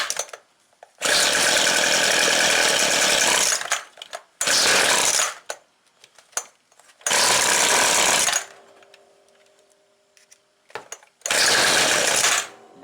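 A small two-stroke engine on 2-cycle equipment, choke set, starting and running loud and close in several long revving bursts separated by pauses.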